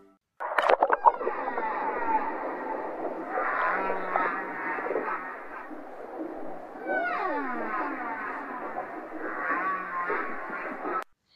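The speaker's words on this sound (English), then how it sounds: "the humpback whale has a number of different sounds they make. One of them is the creaking door" Humpback whale creaking-door calls sound as drawn-out, grinding, rasping moans that sweep up and down. A sharp click opens the clip, and two long bursts follow, separated by a quieter stretch over steady underwater background noise.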